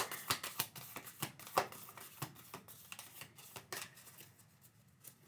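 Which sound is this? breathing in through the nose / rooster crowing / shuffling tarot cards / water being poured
shuffling tarot cards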